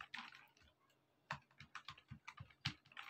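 Close, quiet keystrokes on a computer keyboard as a command is entered in Git Bash to start a backend application, coming in short bursts with brief pauses and a firmer final key press.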